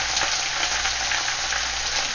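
Ginger frying in a wok at the start of a tofu and baby bok choy stir fry, a steady, dense sizzle holding close and even throughout with no talking.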